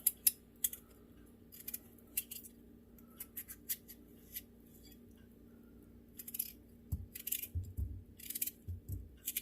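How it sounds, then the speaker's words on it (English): A knife cuts potatoes by hand on a cutting board, giving quiet, irregular slicing clicks and soft scrapes, with a few duller knocks toward the end. "Now you cut your potatoes up the way you feel more comfortable."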